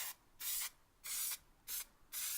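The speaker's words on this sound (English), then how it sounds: "I'm using this spray adhesive" Four short hissing bursts from a can of spray adhesive, close by, separated by brief quiet pauses.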